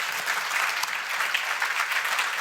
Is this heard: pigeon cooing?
no